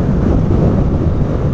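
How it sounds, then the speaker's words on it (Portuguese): Strong wind buffets the microphone of a motorcycle riding through São Paulo, a dense, steady low roar filling the whole moment with no voice. "o vento tá tão forte, mano, que a moto tá, tipo, balançando"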